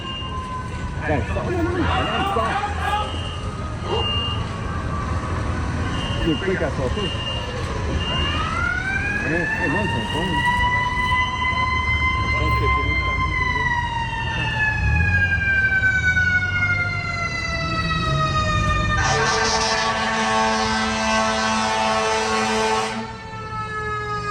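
A fire engine siren wails loudly as it passes, rising and falling in pitch, with a horn blast near the end and rumbling traffic underneath.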